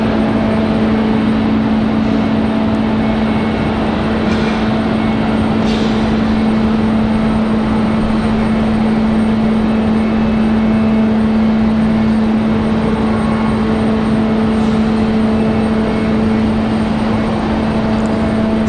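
A Spirit Airlines airliner on final approach to Raleigh-Durham airport gives a loud, constant engine roar with a strong steady hum running underneath, unbroken and close throughout.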